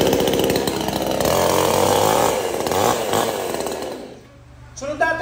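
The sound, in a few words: Oxford 22-inch chainsaw running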